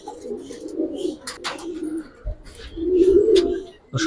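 Silver-coloured Gribaz pigeons coo in low, rolling bursts, close and fairly clear, broken by a few sharp clicks and rustles.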